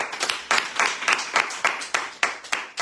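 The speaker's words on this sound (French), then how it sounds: "on les applaudit" Audience applause on a French radio talk show, a short burst of loose, rhythmic handclaps repeating roughly every half second, close and fairly loud with no voices over it.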